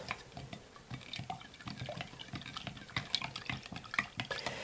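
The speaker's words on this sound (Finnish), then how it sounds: "sekoittaa 100 grammaa sokeria tähän kuumaan teehen" A spoon stirs 100 grams of sugar into hot tea for kombucha, with steady clinking and liquid swirling close by, small bright taps recurring throughout without any talk.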